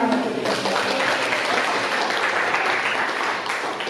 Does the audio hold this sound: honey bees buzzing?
no